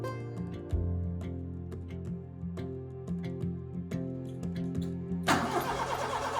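A forklift engine loading plywood at a Japanese roof restoration site turns over and settles into a low, steady idle, then ends in a sudden loud rushing burst near the end, close and without talk.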